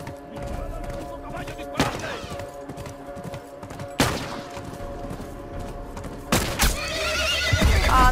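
A horse in The Last of Us neighs loudly and close, with clip-clopping hooves and several sharp, heavy bursts breaking in at intervals, alone without talk.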